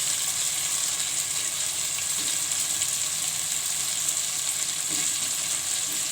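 Hand-broken fried potato pieces drop into a pan of chana for halwai-style puri cholay, raising a steady, loud, broadband sizzle of frying oil that holds throughout with faint stirring clatter.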